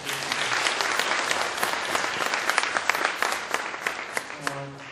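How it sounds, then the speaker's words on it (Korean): An audience at a talk event bursts into sustained applause for three lecturers, a dense, steady patter of many hands that fades slightly toward the end, with a voice starting to speak as it dies down. "세 분 강사님께 다시 한번 뜨거운 박수 부탁드립니다."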